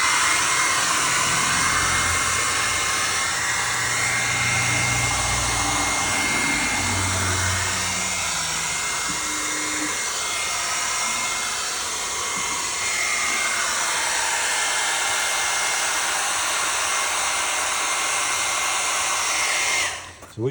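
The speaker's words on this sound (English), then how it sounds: "I'm just going to do it with a hairdryer" A hair dryer on a medium setting blows steadily up close, heating clear paint protection film on a motorcycle, a constant airy whoosh with a motor hum that runs unbroken for the whole stretch before cutting off at the end.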